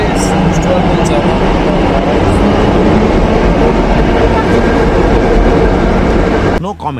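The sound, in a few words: metro train running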